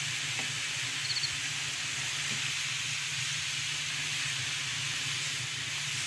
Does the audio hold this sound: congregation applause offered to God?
no